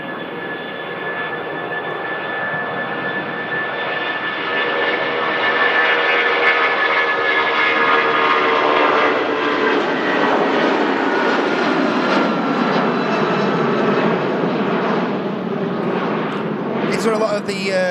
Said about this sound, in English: let's listen to this proper airliner